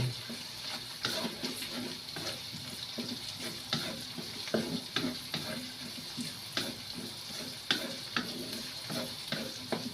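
Chopped onions sizzle in a pan for chicken pastil, with a continuous frying hiss and a spoon scraping and stirring in regular strokes, close by and without talk.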